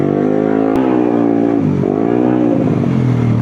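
A tuned Aerox 253cc scooter accelerates hard, its engine note climbing in a loud, continuous whine with a brief shift-like dip midway, recorded close with no talking.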